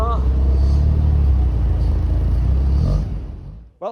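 Cars rumble in a long queue of Volkswagen GTIs at a fan festival, with a close, steady engine drone that fades toward the end, as people talk over it.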